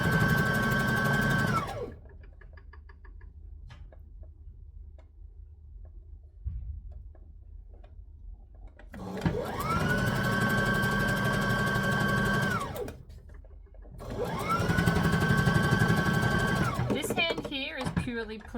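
A sewing machine stitches a pink dress in three separate runs: a short burst at the start, then two longer steady whirring passes later. Quiet pauses fall between the runs, with a few light handling sounds.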